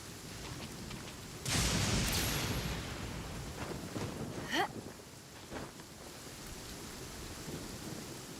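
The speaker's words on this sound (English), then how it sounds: "I never quite managed to get a shot of the lightning strike." A thunderstorm in the video game Genshin Impact, in the Liyue region: steady rain patters as a loud thunder crack and rumble break in, followed by a sharp zap of a lightning strike and fading rumbles, with no one speaking.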